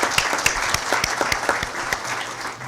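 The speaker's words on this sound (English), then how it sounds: "Let's give her a round of applause." A conference audience at a mayors' panel claps steadily in a dense, even round of applause, moderately close and sustained without talk.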